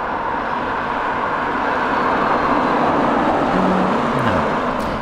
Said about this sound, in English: Now here's the Nissan LEAF when travelling at around 25 to 30 miles an hour.